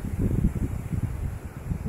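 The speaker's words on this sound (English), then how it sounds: "That's windy." Low, blustery rumble of wind buffeting close by, gusting unevenly in soft waves with no other clear sounds.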